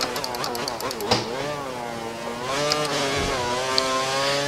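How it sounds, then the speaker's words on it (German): An F1 race car engine in F1 2013 screams at high revs, holding a steady, sustained whine with small pitch sweeps as the throttle is blipped, loud and close throughout. "Motor hoch und geht schon"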